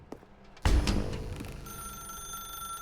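Telephone ringing in the video game The Stanley Parable, a sudden loud electric bell ring that starts abruptly and then settles into a steady sustained tone.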